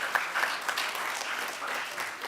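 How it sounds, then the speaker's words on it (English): Short, fairly quiet round of applause from a town hall audience at a college event, soft scattered clapping for about two seconds. "So I'm going to ask you to give Gaff a round of applause."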